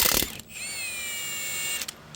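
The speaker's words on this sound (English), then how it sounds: "Got a 19 millimeter socket on there." A ratchet wrench fitted with a 19 mm socket works on the rear brake of a 2003 Ford Ranger Edge, with a brief burst of clicking near the listener, then a sustained high metallic whine and a few final clicks.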